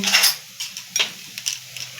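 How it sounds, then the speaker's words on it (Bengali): A spoon stirs Amul milk in a glass, making a few sharp metallic clinks and taps against the glass in an uneven rhythm, close up and with no voices. "ভালো করে দুধটাকে গুলিয়ে নেব"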